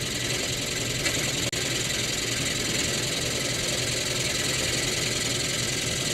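A machine drills into a metal yo-yo and cuts off large shavings, making a loud, steady mechanical drone that holds unbroken with one brief click partway through.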